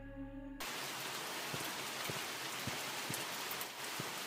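Steady rain pours in a horror video game, a dense, even hiss with scattered louder drops and thuds, starting abruptly after a brief moment of tonal music and continuing without talk.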